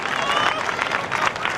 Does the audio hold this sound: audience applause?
yes